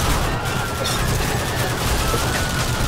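Gunfire in a first-person shooter video game, a dense continuous rattle of rapid shots filling the whole stretch at steady loudness, with game noise beneath.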